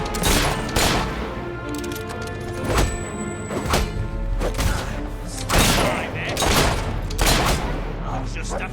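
Gunfire and impact thuds from the Fable 3 video game, a run of sharp, loud bursts over several seconds set against busy combat noise, with game voices talking throughout.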